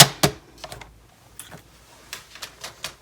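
A scoring tool dragged back and forth along a line in cardstock under firm pressure, making several short, sharp, close scratches with quiet gaps between them.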